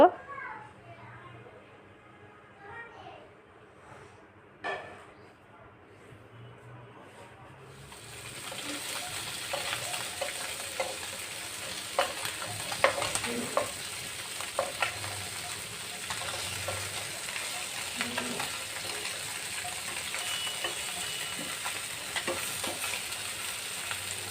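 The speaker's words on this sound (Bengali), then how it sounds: "ফ্রাই প্যানে মাছগুলো দিয়ে দিলাম এখন উল্টে পাল্টে ভেজে নিব" Bata fish frying in a frying pan: quiet kitchen sounds first, then a steady, loud sizzle from about eight seconds on, with scattered utensil clinks and faint background voices.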